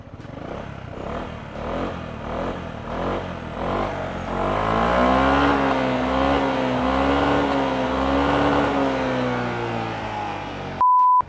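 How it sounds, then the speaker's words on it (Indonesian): A Yamaha New XMAX 250 Connected 2023 scooter engine revs repeatedly, starting with short rising blips and then holding a sustained wavering high rev, loud and close, with no talking. "Oh ya teman-teman, kayak gimana sih suara mesinnya? Tentu saja persis dengan XMAX lama,"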